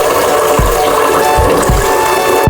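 Tap water runs loudly and steadily as mung beans are rinsed for ginataang monggo, with a few soft low thumps from the beans and bowl beneath the continuous flow; no one speaks.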